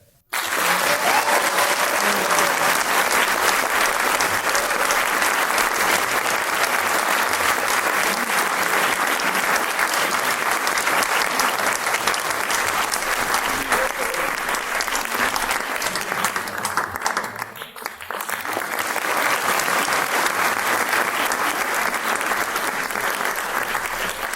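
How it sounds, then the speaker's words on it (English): An audience at a graduation ceremony gives sustained, loud applause for the full length, a thick continuous roar of clapping that dips briefly near the end before swelling again. "Can you give a round of applause to Mr. Kevin Bay?"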